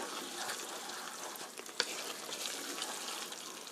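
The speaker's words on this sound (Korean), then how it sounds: "어느 정도 보글보글 끓으면 전분이 다 익을 거예요." Meat sauce thickened with starch, with tofu in it, simmers in a pan with a steady, close, crackling sizzle and bubbling that runs throughout without any talking.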